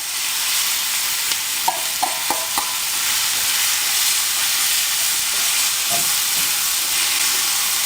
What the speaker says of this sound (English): go ahead and throw all this mushroom and onion right in on top